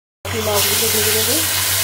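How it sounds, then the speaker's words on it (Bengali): Tilapia fry in hot oil in a home kitchen pan, a loud, close sizzle starting abruptly and holding steady, with a short faint tonal sound partway through. "মাছগুলো ভেজে নেব।"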